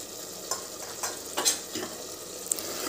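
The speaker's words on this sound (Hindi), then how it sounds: "मिक्स कर देंगे ये तले हुए आलू" Fried potatoes being stirred into a yogurt masala in a pan, a steady sizzle broken by repeated scraping and clinking strokes of the spoon at an irregular pace.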